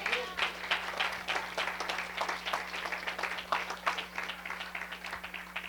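A church congregation applauds with rhythmic, fairly uniform clapping at a moderate, slightly distant level. A steady low hum runs underneath.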